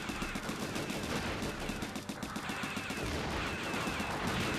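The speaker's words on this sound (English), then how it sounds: "He's going to shoot these homing missiles." Mobile suit weapons fire in the Gundam Side Story video game, a dense, steady barrage of rapid launches and blasts with no voices over it.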